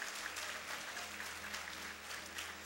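A church congregation applauds with a dense, steady patter of clapping hands, fairly faint and continuous across the whole stretch.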